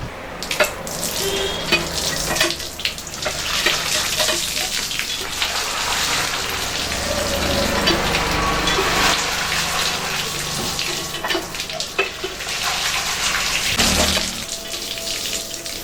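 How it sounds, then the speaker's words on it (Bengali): Tap water runs steadily and loudly into a sink while cut crabs are being washed, with close splashing and clatter over the continuous rush and no talking. "এবার কাঁকড়াগুলোকে পরিষ্কার করে ধুয়ে নেব"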